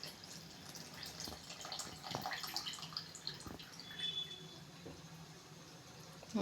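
Filtered tamarind water poured into a pot of brinjal kuzhambu gives a quiet, steady trickle and splash with scattered drips, fairly faint and close, with no talking.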